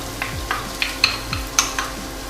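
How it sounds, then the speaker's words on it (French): Finely chopped shallots softening in a little olive oil over moderate heat, giving a gentle steady sizzle with a series of soft spoon scrapes and light clinks against the pan, close up and with no talking. "Et je vais faire revenir en fait mes échalotes que j'ai coupées en tout petits morceaux"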